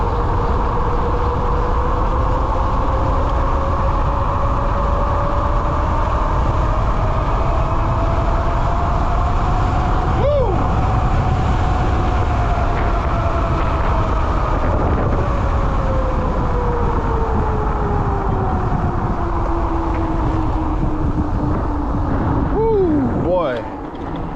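Tommebike Icon 8000W electric bike accelerating, a whining motor tone rising and falling steadily over heavy wind rush for about twenty seconds, with a brief chirp near the end.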